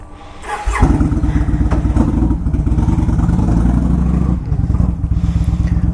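A Yamaha 950 motorcycle engine fires up and settles into a loud, close, steady lumpy idle with mechanical clatter.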